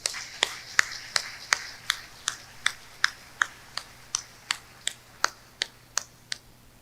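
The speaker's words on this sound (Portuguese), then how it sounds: "Eu mesmo aplaudo." One person claps alone at a steady, even pace, about seventeen crisp, close claps in a row, during a sermon at a church afternoon worship service.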